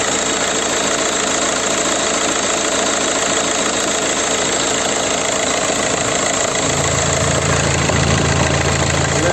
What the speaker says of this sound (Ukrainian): Двигун працює ідеально рівно.